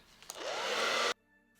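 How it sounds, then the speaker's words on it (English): A hair dryer drying a wig whirs on with a rising whine, blows loudly for under a second, then shuts off abruptly. "I'm gonna take my dryer and dry everything down."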